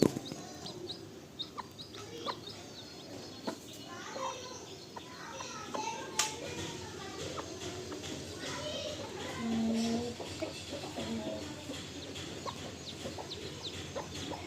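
A backyard hen clucks now and then amid outdoor noise, with children playing and chattering nearby and a few short bird calls in the background.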